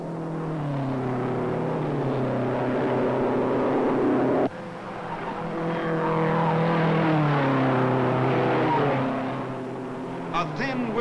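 Race cars at the 1955 Indianapolis 500 roar past, engine notes sweeping up and down as they pass, loud and continuous, with an abrupt cut partway through.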